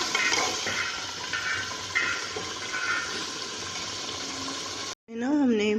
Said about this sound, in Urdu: ہم نے پانی ایڈ کیا اپنے مطابق کا